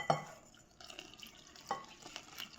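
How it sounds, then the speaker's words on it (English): Rava semolina batter for dosa being stirred in a bowl, with soft wet swishing and a couple of brief clinks of the spoon against the side, close and fairly quiet. "We are going to mix this and make a thin batter."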